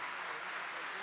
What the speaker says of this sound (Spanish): doctora Milagros Ortiz Bosch, para quien siempre pido un fuerte aplauso, por favor.